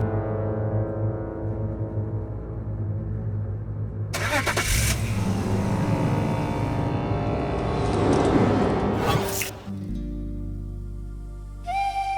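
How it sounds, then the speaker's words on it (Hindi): A car engine starts and runs, rising into a strong revving drive with a brief whistle-like tone partway, steady and close, under a dramatic music score. "गाड़ी चलाओ।"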